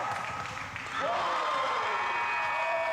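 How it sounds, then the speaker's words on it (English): Crowd at a college championship basketball game cheering and applauding loudly, a sustained roar that swells after a brief dip and holds steady, with a whistle-like tone rising through it. "Crowd roars in The approval."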